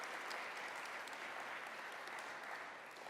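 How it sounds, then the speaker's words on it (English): Steady round of applause from an audience at a startup demo day event, a dense, even wash of clapping that tapers slightly at the end. "I'd like to give a big round of applause to Bernard Robinson"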